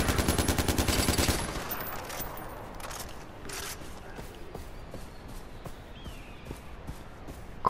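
Rapid automatic gunfire in Far Cry 4, a dense burst for the first second or so, then scattered single shots and short pops over a quieter background.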